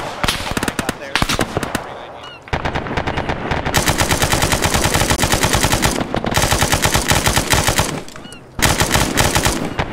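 Machine-gun fire in Arma 3: long rapid bursts of loud, evenly spaced shots, broken by brief pauses, with voices talking over the shooting.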